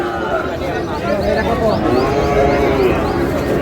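Sahiwal cattle and young bull calves moo repeatedly at the Ambari livestock market in Dinajpur, drawn-out calls layered over a busy crowd murmur with people talking close by.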